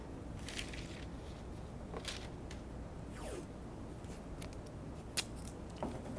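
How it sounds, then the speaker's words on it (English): Painter's tape pulled off the roll, torn and pressed onto a wooden cutting board, with close, quiet ripping strips and small crackles in several short bursts spread over a low background. "Get my painter's tape, and I'm going to go ahead and secure this to my surface."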